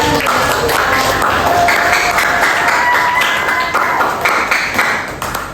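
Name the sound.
class applause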